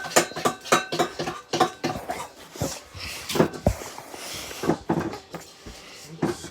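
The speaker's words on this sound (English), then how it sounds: "Scraping the bowl." Spatula scraping around a mixing bowl of cupcake batter, a run of short, uneven scrapes and clinks close by, with soft rustling between strokes.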